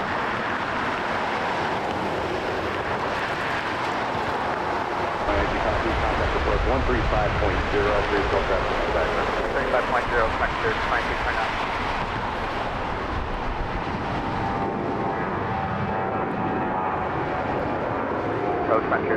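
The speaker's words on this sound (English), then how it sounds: "We have a Southwest on the roll. Heading off to Boise, Idaho, Southwest Flight 2914, 737-700." A Southwest Boeing 737-700 rolls for takeoff at Las Vegas, its jet engines a broad, steady roar that swells in the middle and holds, heard from a distance with talk over it.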